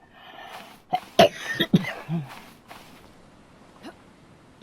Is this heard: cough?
yes